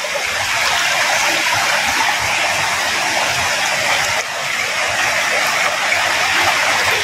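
A seasonal waterfall in the Udayagiri hills of Nellore district rushes in a steady, loud, broadband roar of falling water, constant and close, with no voices.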